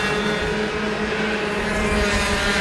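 Racing karts at Suzuka power out of the final corner onto the home straight, a continuous loud buzzing engine drone that holds steady for the whole stretch with no pause.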